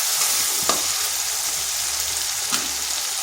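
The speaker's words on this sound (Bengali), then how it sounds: "পেঁয়াজটা হালকা ভেজে নিচ্ছি।" Onion frying lightly in oil in a pan with salt already added, a steady soft sizzle that holds throughout, with two faint utensil clicks breaking through.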